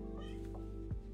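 A cat meows at a shut door, a short close-up call over a steady background hum in a quiet indoor room.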